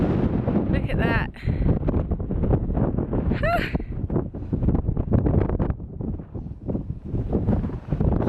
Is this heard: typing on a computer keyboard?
no